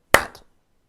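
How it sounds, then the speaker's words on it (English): A single sharp hand clap lands on the offbeat of a drum-along count, loud and close with a short decaying tail, alone with no talk. "just clap on the off beat, on the and"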